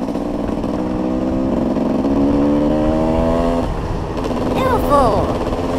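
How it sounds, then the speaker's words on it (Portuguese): A Honda EC 250 motorcycle engine buzzes close up while riding through city streets, rising in pitch and then dropping sharply as gears are shifted quickly, with wind rush throughout. "Tô mudando as marchas rapidinho pra não esticar muito"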